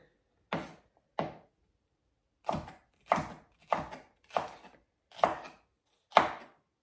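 A knife chops a red bell pepper lengthwise on a cutting board in eight crisp, separate strokes, irregularly spaced, with an early pair, a pause, then a quicker run.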